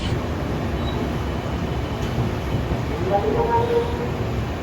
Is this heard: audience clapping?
no